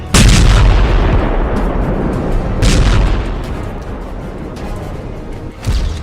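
Heavy explosions boom one after another, three loud blasts spaced a couple of seconds apart with rumbling aftermath between them.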